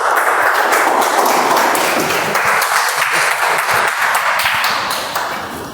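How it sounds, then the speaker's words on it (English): Dense, steady clapping from an audience at a meeting, loud and continuous before tapering slightly at the end, with no voices over it. "give it a big round of applause once he completed his speech"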